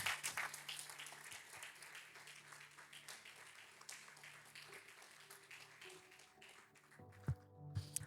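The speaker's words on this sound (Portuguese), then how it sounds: "Você pode aplaudir no nome do Senhor?" Church congregation applauding in a worship service, a dense patter of many hands that thins and fades toward the end, with a few sharp taps and faint background sounds.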